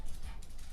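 Dogs indoors barking at noises in a hallway, a brief, fairly faint cluster of barks over low background noise.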